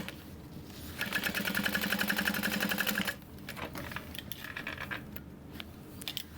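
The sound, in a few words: sewing machine stitching a backpack seam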